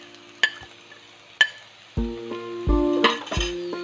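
Spoon or spatula stirring spice powders (Kashmiri chilli, chilli powder, garam masala, pepper) into boiled soya chunks in a pan, with several sharp scraping knocks and clinks against the metal, close and fairly loud, no talk.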